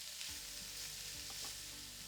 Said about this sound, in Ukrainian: Перемішуємо все та обсмажуємо приблизно 5 хвилин.